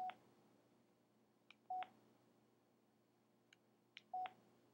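Telephone keypad dialing tones played over a speakerphone, three short faint beeps spaced out with light taps between them in a quiet room.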